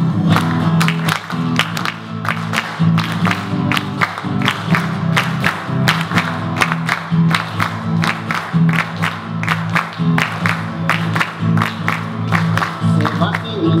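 Audience at a folk music gala claps along in a rhythm while music plays and voices shout and cheer. The clapping comes in regular, loud pulses throughout.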